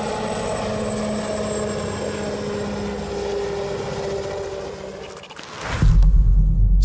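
A Sikorsky-Boeing Defiant X coaxial helicopter flies with a loud, sustained droning engine and rotor roar. Near the end it swells into a heavier, booming rumble, and no one speaks.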